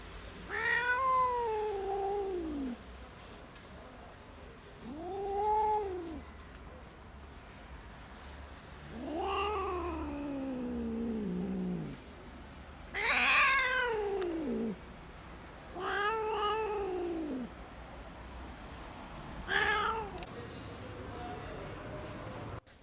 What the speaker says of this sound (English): otherwise the cat will continue to meow in pain